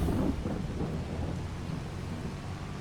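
Thunderstorm in Farming Simulator 22, with a heavy rolling rumble of thunder at the start that eases into steady rain and a low, continuous storm wash heard alone without voices.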